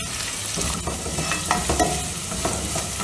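Garlic, curry leaves and slit green chillies fry loudly in hot oil in a pan, a dense continuous sizzle and crackle with occasional stirring scrapes, close and with no talk.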